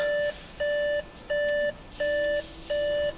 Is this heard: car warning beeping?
yes